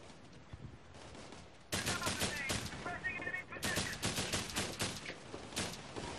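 Bursts of rifle and machine-gun fire in Operation Flashpoint: Red River, two loud clusters of rapid shots separated by a brief lull, with quieter talk in the background.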